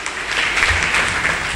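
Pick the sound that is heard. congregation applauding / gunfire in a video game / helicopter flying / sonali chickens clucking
congregation applauding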